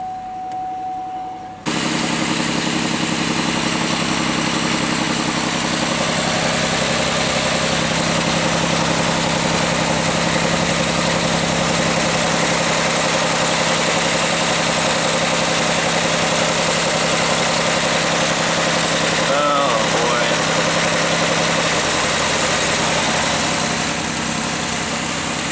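A Pontiac Aztek engine idles steadily right after an oil change, a constant close rumble with a low hum that starts abruptly after a brief quiet moment and runs evenly throughout.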